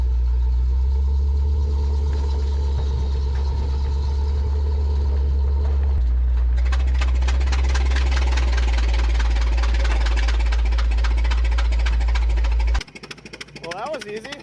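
A 1926 Ford Model T touring car engine runs after a tow start with a loud, continuous low rumble and a steady idle vibration. Near the end it drops away abruptly, leaving quieter ambient noise.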